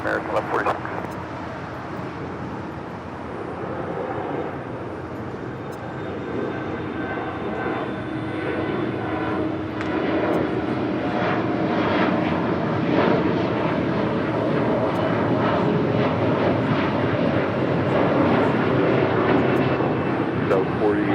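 An airliner takes off from runway 25 right at Los Angeles International Airport, a broad jet roar that swells steadily over about twenty seconds, with air traffic control radio talk running underneath.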